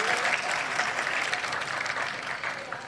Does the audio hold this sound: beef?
no